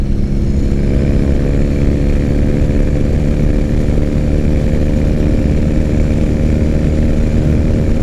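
A 2006 Triumph Bonneville motorcycle engine on the move, a loud, close, continuous rumbling drone with a strong low throb and no pauses.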